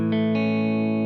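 A distorted electric guitar chord rings out dry and sustained, with no reverb tail, a couple of fresh strums briefly brightening the tone.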